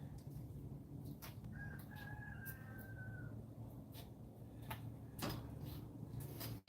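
A rooster crows in a single drawn-out call at moderate distance, heard faintly over a steady low hum of background noise and a few scattered clicks.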